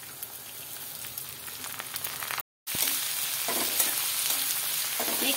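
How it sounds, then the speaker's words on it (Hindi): Cabbage, tomato and capsicum hit a pan of fried onion and stir-fry with a loud, dense sizzle that surges after a brief silent gap, close up and continuous. "प्याज हमारे भून चुके हैं तो ऐड कर देंगे पत्ता गोभी, टमाटर और शिमला मिर्च।"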